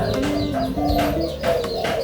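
A spotted dove (tekukur blorok) hen coos softly in a short series of low notes, with faint bird chirps and ambient noise behind.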